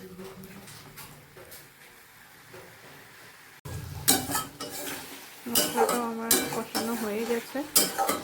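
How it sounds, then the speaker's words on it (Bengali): Potatoes stirred in a pan for a homemade Bengali fish curry, with clinks of a utensil against the pan and a soft sizzle; quiet at first, then louder scraping and stirring bursts. "এবার ভালো করে আলুটাতেই কষাবো"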